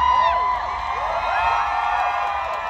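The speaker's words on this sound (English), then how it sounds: "Biggest crowd I think I've seen here" A large crowd cheering and whooping at the British Grand Prix at Silverstone, a dense steady roar of voices with rising whistles and shouts throughout.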